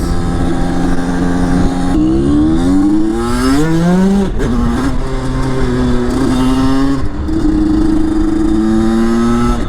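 An MVT DD motorcycle engine revs hard during wheelies, loud and close, with rising and falling pitch sweeps and throttle blips, no one talking.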